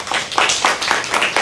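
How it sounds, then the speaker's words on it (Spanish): An audience at a health talk on HPV vaccine benefits claps for a female doctor, brisk rhythmic hand claps close and loud over a short burst, without voices. "un aplauso para la doctora de parte de todas"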